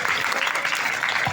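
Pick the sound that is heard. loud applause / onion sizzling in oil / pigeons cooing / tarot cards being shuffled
loud applause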